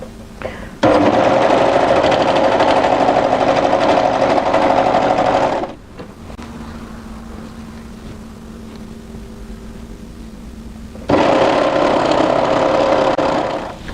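An overlocker runs a seam on a tee dress in two long steady bursts of fast, even whirring, separated by a quieter pause of lower motor hum, close and loud.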